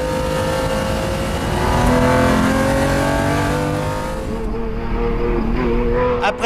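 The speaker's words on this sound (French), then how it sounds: "À Dijon, la ligne droite n'est pas très longue, mais on atteint tout de même 270 km/h avant le freinage." Lamborghini Diablo race car accelerating on the Dijon circuit: a loud, close, rising engine roar climbing through the revs, then easing off near the end.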